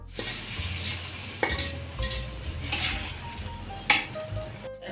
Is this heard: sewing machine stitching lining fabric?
no